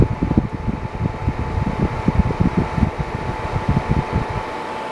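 A vintage 1987 MityFurnace heater with ceramic heating elements runs on high heat, its fan producing a loud steady whooshing roar with a faint fluttering low rumble and a thin constant hum.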